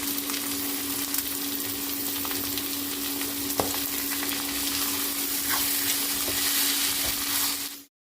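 Medium-cut chicken liver pieces frying in a hot pan, village style, giving a continuous close sizzle with scattered crackles and an occasional stir, steady and even throughout, with no voices, ending abruptly.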